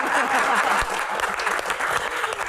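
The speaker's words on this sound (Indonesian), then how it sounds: "tepuk tangan untuk Seno" A studio audience of students at a televised Q&A show bursts into applause for Seno, a dense, bright, continuous clapping that stays strong throughout.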